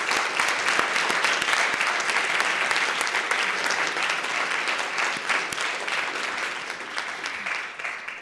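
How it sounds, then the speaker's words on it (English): Sustained, steady applause from a large audience thanking event sponsors, loud and dense clapping filling the room throughout with no break. "Please, let's give all of them a huge round of applause."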